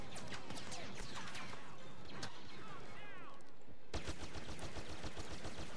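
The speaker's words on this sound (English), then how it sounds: "He's shooting through these tents." Blaster gunfire in the Star Wars Battlefront beta on Tatooine, a busy run of rapid shots and impacts through tents, with a commentator's voice partly over it and a tighter burst of repeated shots near the end.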